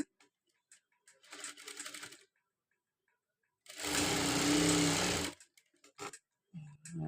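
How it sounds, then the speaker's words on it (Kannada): Sewing machine stitching piping fabric, running in two loud bursts, a short one then a longer steady whir, separated by quiet handling clicks. "ಸೊ ಈ ಥರ ಇಟ್ಕೊಂಡು ಹಾಫ್ ಇಂಚಿನಷ್ಟು ಹೊಲಿಗೆ ಹಾಕ್ಕೊಳ್ಬೇಕು ಈ ಥರ"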